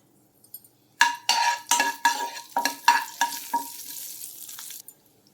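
Mustard seeds, asafoetida and curry leaves hit hot oil with a burst of sputtering and crackling, a string of loud pops and stirring scrapes that fade after a few seconds, close by with no talk.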